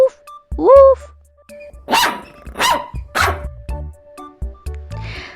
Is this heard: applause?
no